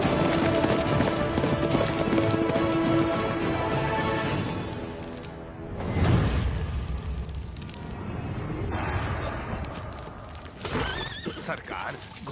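Horse activity in a dramatic Indian period-film scene, with whinnying and hoofbeats sounding close amid a dense, busy mix that also carries speech and other action noise.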